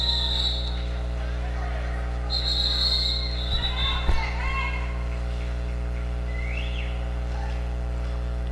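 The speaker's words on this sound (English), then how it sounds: "We have a whistle" A referee's whistle sounds at a roller derby bout, a couple of sharp high blasts over a steady arena hum and crowd noise, with an announcer's commentary running alongside.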